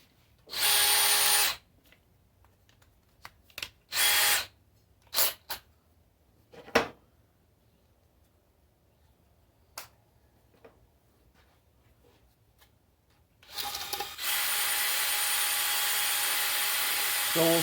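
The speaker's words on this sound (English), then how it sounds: "Okay, so now I got a sander for the inside of my tube." A power sander spins inside a PVC tube to scuff its interior, with short loud whirring bursts at the start, scattered clicks and knocks in between, then a sustained grinding run near the end.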